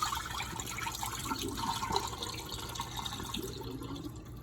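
Water poured off a pot of grits after a swirling rinse, a steady splashing and trickling pour that runs for a few seconds and then tapers off near the end.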